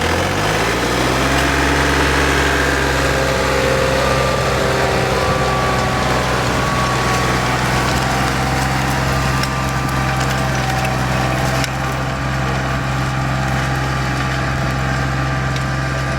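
A John Deere 3320 or 3033R compact tractor pulls away with an antique disk, its steady diesel engine drone running loud and continuous with a faint woody rattle above it.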